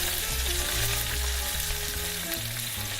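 Beef sears in a large pot with a steady, loud, dense sizzle that stays constant throughout, with no talking.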